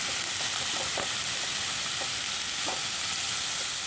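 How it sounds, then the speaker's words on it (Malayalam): Chopped cabbage sizzles and fries in a pan for cabbage thoran, a loud, steady hiss with a few soft scraping stirs of a spoon near the start and middle, and no voices. "ഇനി നമുക്ക് അരിഞ്ഞു വച്ചിരിക്കുന്ന കാബേജ് ചേർക്കാം നന്നായിട്ടൊന്ന് ഇളക്കി യോജിപ്പിച്ച് കൊടുക്കാം"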